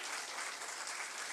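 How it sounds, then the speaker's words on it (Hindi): Applause from an audience at a cultural program, thanking a young child performer; dense, steady clapping fills the short stretch at moderate distance with no voices. "जोरदार तालियों से"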